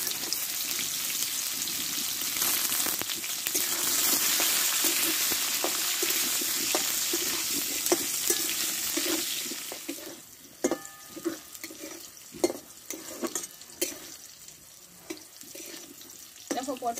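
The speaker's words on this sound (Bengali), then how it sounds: "এবার তেলে একটু আমি দেবো হলুদ গুঁড়ো আর 1 চিমটে লবণ দিয়ে পটলটা ভালো করে আমি আগে কষে নেব।" Pointed gourd with turmeric and a pinch of salt sizzles in hot oil, a steady frying hiss for the first half that thins into scattered crackles and scraping clicks later on.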